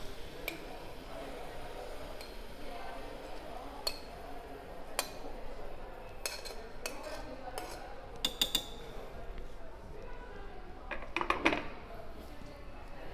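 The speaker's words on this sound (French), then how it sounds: "je mélange le tout pour que tout soit imbibé du jus de tomate" Red beans, corn and tomato juice stirred together in a Cookeo pot, heard as quiet, scattered spoon clinks and scrapes against the pot, some sharper taps near the end, with faint talk.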